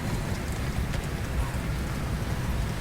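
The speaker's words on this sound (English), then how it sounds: "it's hailing, but there is not fog" Hail falls in the video game Subnautica Below Zero as a dense, steady patter of pelting noise that fills the scene, with faint speech mixed in.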